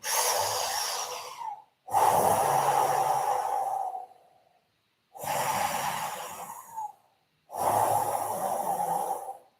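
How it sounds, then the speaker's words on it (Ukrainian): Four long, loud, forceful breaths during a breathing exercise class, alternating inhales and exhales, each lasting about two seconds and separated by short silences. "ви маєте чути звук свого дихання"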